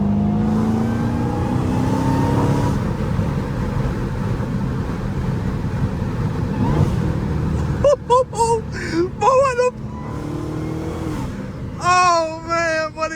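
A 900-horsepower Dodge Hellcat in sport mode roars loudly from inside the cabin, a steady heavy engine drone that later breaks into rising and falling whining revs as it accelerates; faint voices murmur under the noise.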